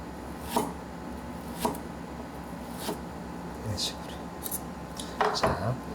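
A knife cuts ginger into thin slices while making salmon sushi. There are a few separate close scraping strokes against a board, with light clinks and rubbing near the end, over a steady quiet background.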